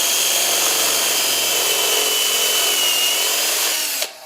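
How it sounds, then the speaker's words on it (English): A power drill bores a blind hole partway into a workpiece with a steady, loud grinding whine that runs continuously for about four seconds, then cuts off abruptly as the bit stops. "We drill a blind hole, which means we go halfway through and stop"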